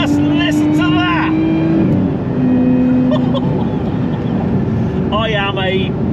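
A Lotus Emira's supercharged V6 engine drones and revs at steady volume with a rising supercharger whine, while people talk over it intermittently.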